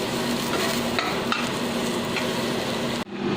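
An onion and green chili mixture is stirred in a pan, a steady frying sizzle with scraping and stirring strokes close by, continuous and loud, with no talk.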